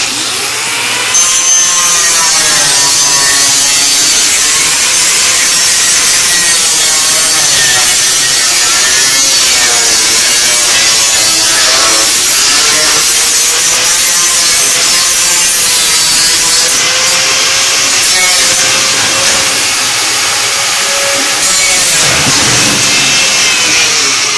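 A power saw cuts through stacked wooden sheets, a loud, continuous rasping whine with shifting pitch as the blade works through the material, close up, with no talk.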